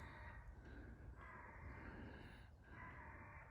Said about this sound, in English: there's a rook making himself known